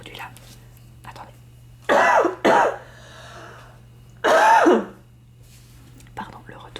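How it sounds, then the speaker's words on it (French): Two quick bursts of coughing followed by a longer cough, loud and close, with quiet pauses in between and a faint steady hum underneath. "le retour la fille qui tousse pendant ces vidéos"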